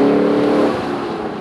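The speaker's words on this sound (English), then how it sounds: "I'm gonna give it just a little bit of gas right now in second gear" A Lexus LC 500 exhaust revving lightly in second gear, a smooth yet aggressive close-up drone that swells briefly and then settles and fades slightly as the throttle eases, with no talking.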